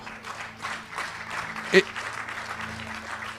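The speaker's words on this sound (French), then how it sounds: "Acclamez pour le Seigneur" A church congregation applauds steadily at a service in Dijon, a dense close wash of clapping with one sharper louder clap partway through.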